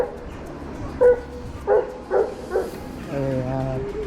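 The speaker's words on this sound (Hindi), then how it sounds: "कुत्ता बहुत ज़ोर से भौंक रहा था" A dog on an Amsterdam street at nightfall barks loudly four times in a quick, uneven series, fairly close, then gives a drawn-out whining tone.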